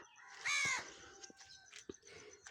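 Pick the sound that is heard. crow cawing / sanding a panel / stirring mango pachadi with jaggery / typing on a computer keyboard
crow cawing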